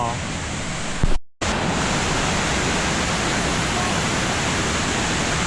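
A waterfall in Cat Cat village in Sapa, Vietnam, roars loudly and steadily close by, a dense rushing wash broken only by a short cut near the start.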